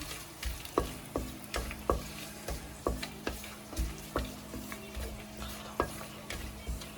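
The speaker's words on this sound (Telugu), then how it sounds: "హోల్ బిర్యానీ మసాలా వేగేంత వరకు" Whole biryani spices and shahjeera fry in hot oil for Telangana bagara rice, a soft steady sizzle broken by regular scraping clinks of a spoon stirring the pan, close and fairly quiet with no talk.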